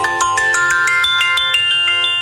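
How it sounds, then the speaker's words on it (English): A phone alarm rings out loud and close, a bright repeating electronic melody of quick chiming notes pulsing in a steady rhythm with no voices over it. "Here is my phone one of my 5 alarms."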